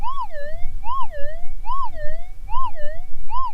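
A Minelab Axiom metal detector responds to a gold target with a loud, repeating rising-and-falling warble, like a siren, cycling about four times with no voices over it.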